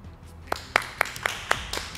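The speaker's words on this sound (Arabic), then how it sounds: "تصفيق لمتسابقة علياء." Applause for contestant Alia on the Iraqi cooking competition Chef Iraq, heard as a short run of six or seven evenly spaced sharp claps, moderately loud and faintly roomy, with no talking.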